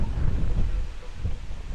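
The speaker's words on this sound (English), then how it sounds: "Super windy." Strong gusts of wind buffet the microphone, producing a continuous low roar and rumble throughout the short stretch.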